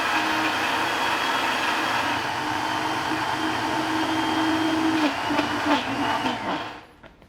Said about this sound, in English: All you want to do is just blitz it up and make it into a very, very fine paste.